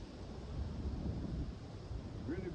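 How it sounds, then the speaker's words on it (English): Strong outdoor wind blowing through trees on a freezing day, a steady broadband rush with low rumbling gusts, continuous and fairly loud throughout. "the wind is really blowing through the trees"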